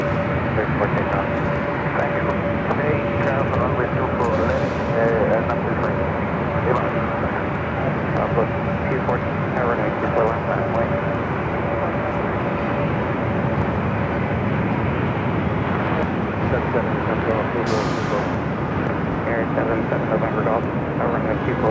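Airliner jet engines roar as Viva Aerobus Flight 623 rolls down runway 24 left at Los Angeles LAX. The sound is a steady, continuous broadband rumble lasting throughout, with faint voices underneath.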